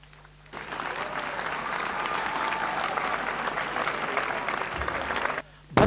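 A crowd bursts into steady, full applause at a turban-tying ceremony for a young Quran memoriser, sustained for about five seconds before cutting off abruptly.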